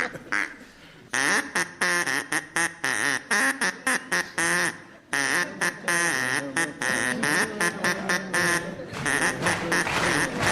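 A human voice imitates a duck in an Old MacDonald routine on a comedy panel show, producing loud, rapid, rhythmic quacks in bursts with brief pauses.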